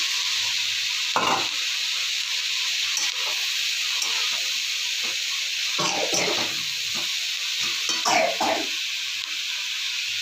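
Cabbage frying in a pan with capsicum, carrot, onion and beans, a steady bright hiss with intermittent clacks of a spatula stirring the vegetables.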